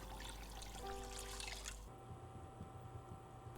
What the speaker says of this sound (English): Thoroughly rinse your pot before filling it with 7 cups of water